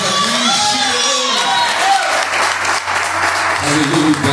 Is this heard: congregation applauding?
yes